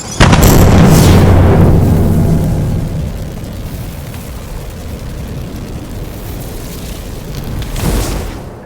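LEGO WW2 stop-motion battle effect of a tank cannon firing: one loud, close boom opens the scene and rolls into a long rumbling decay, with a second swelling blast near the end.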